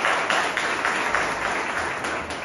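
A school gathering welcoming and honouring the headmaster with loud, dense applause from a crowd, steady and unbroken throughout.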